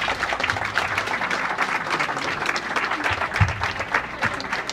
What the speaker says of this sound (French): j'aimerais bien qu'ils soient applaudis pour tout ce qu'ils font